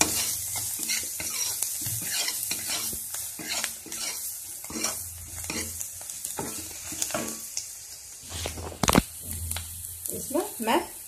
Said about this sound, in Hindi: ये चाट मसाला, सारे को मैं डाल के भून लेते हैं